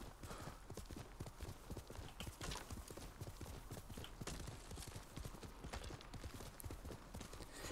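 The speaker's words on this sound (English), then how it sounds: "Alright, call the horse to me." Horse hooves clip-clop steadily in Ghost of Tsushima, a brisk, continuous run of close hoof strikes at a trot or gallop, moderately quiet over a busy game soundscape.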